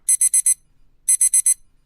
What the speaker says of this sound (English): the alarm continued to ring